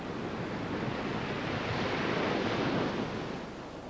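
Sea waves breaking on the shore of the Norfolk coast, a loud, steady roaring wash of surf with wind noise that swells and then eases slightly toward the end, no voices.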